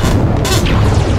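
An explosion destroys a statue in the Saints Row 4 video game, a loud, dense boom that fills the whole moment with rumbling blast noise and crackle.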